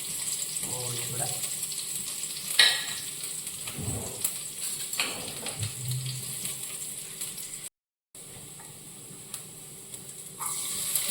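Finely chopped garlic sizzles in hot ghee in a pan, with a close, steady hiss and crackle and a few brief stirring knocks.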